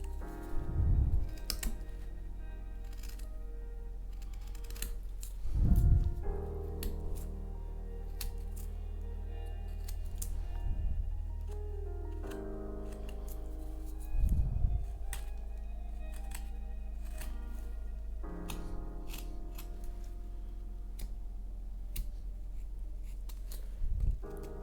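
Sharp, close scraping and clicking cuts of a knife carving away the edges of a square wooden block, in irregular bursts with pauses between strokes and a faint steady background hum.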